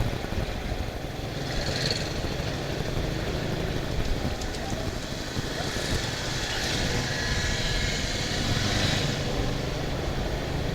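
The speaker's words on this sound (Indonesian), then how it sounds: "Anginnya gede banget." Strong wind blows steadily over a hillside village on the slopes of Mount Sumbing near Wonosobo, with a broad continuous rush and gusts that swell and fade over the full length.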